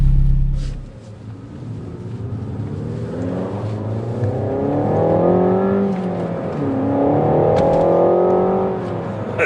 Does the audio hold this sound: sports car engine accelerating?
yes